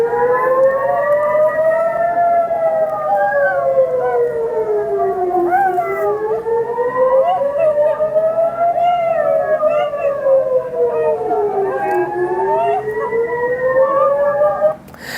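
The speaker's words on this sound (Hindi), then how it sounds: "तभी अचानक से सायरन बजने लगा." A civil defense air raid siren wails in Tel Aviv, its pitch rising and falling in long slow sweeps, loud and continuous for about fifteen seconds before cutting off abruptly.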